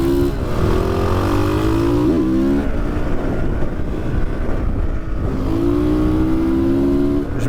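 Road-legal Honda CRF 450 supermoto motorcycle riding through tight curves, single-cylinder engine revving up and down as it shifts through bends, steady and close with wind noise.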